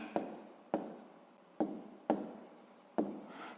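Pen or pencil writing an answer on paper during a sixth-grade maths exercise, five sharp taps each followed by a short scratchy stroke, close and quiet, no voices.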